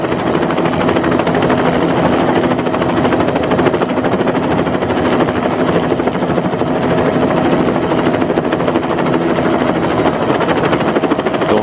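A helicopter filming a forest stage of the 2011 Rally Finland roars steadily and loudly throughout, its rotor chop a dense, continuous thrum with no voices.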